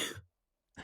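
A single short cough-like vocal burst, then a pause of silence, followed by another brief throaty burst, close to the microphone, voiced for a League of Legends sound redesign.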